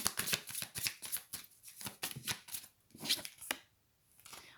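Tarot cards shuffled in quick riffling bursts during a reading, a steady run of close, crisp papery flutters and slaps that thin out near the end.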